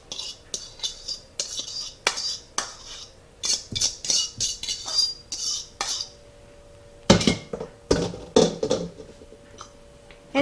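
Corn being stirred into shepherd's pie filling, with a spoon clattering and scraping against a pot in quick bursts, some clusters of rapid clinks, close and fairly loud.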